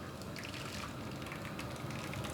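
Water is poured into a pan of blended red beans for sweet bean buns, a steady, continuous splashing pour with faint gurgling, even in level throughout and with no talk.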